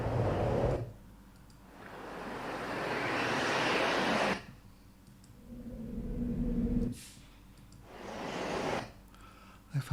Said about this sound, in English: What about bringing in some wind? Just for this last bit. Cave and wind.